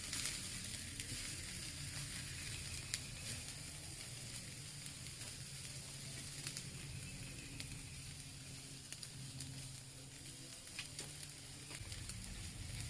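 Picanha steaks sear over a charcoal fire in a Weber kettle grill, giving a steady, close sizzle with soft crackle and hiss that runs unbroken throughout, with no talking.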